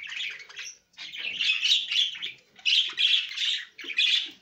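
Caged pet birds, likely budgerigars, give bursts of shrill chattering chirps and squawks close by, in repeated clusters with brief pauses between them.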